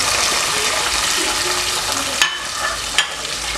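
Onions sizzling steadily as they fry in a pan while liver is being cooked, with a broad continuous hiss and a couple of sharp clicks near the end, with no talk.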